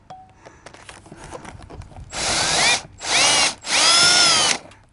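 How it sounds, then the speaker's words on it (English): A power drill bores up through loose vinyl siding in three loud whining bursts, each with a clear pitch rise, after a quieter stretch of handling noise. "So we're gonna take a drill and pre-drill it,"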